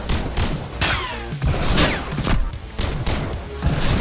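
Rapid bursts of gunfire from the VR shooter Robo Recall crackle in quick clusters over about four seconds, loud and close, with faint vocal sounds mixed in.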